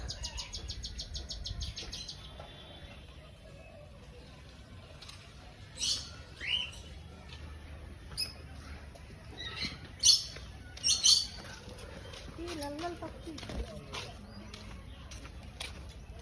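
Shrill squawks and chirps of a red-feathered lory parrot at Guwahati Zoo ring out intermittently, several sharp calls clustered toward the end, over a quiet background hum.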